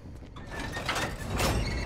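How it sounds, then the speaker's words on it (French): A door opens in the horror video game Last Year: The Nightmare, a sustained mechanical sliding rumble lasting under two seconds, with no talk over it. "J'ai ouvert la porte."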